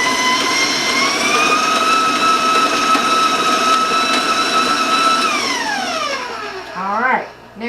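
A stand mixer with its paddle working almond bar dough gives a steady, loud motor whine that holds level, then winds down and fades out near the end.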